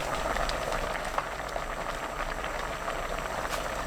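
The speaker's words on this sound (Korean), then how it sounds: "1분 30초 끓입니다." A pot of soup with doenjang and gochujang, garlic, soy sauce, enoki mushrooms and green onion bubbles steadily on high heat, a continuous close simmering hiss with small pops and gurgles throughout.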